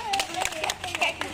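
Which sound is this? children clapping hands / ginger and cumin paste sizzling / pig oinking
children clapping hands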